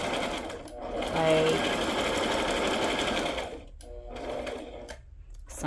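A sewing machine running a zigzag or deliberately wonky stitch in a steady whirring burst of about three and a half seconds, then a shorter run, with a voice speaking briefly over it.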